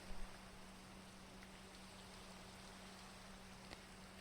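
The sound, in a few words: rain falling in the video game Minecraft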